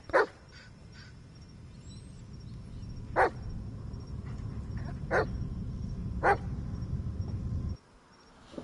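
A dog in the Blair Witch video game barks in four sharp, separate bursts spaced a second or two apart, loud over a low rumbling ambience that cuts off near the end.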